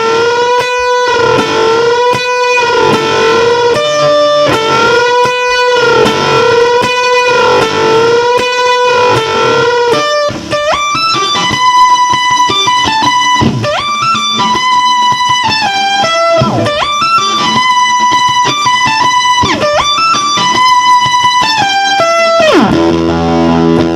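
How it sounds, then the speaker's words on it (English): An electric guitar solo from a song, played loud with heavy fuzz distortion: sustained, bending lead notes give way to quicker melodic phrases, then the sound drops off sharply at the very end. "and then it rips into the guitar solo"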